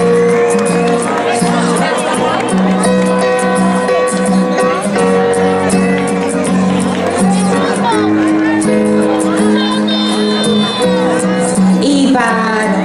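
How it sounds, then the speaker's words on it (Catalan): A school audience at a 4th-year graduation ceremony cheers and applauds the students, loud crowd noise with whoops and shouts filling the whole stretch, over music-like tonal sounds and babble. "Un aplaudiment per elles."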